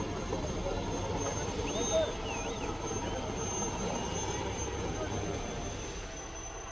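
An Indian Army helicopter on a river rescue over the Tawi River in Poonch, Jammu and Kashmir, heard as a faint, distant, steady engine drone under wind and ambient noise, with no clear rotor beat.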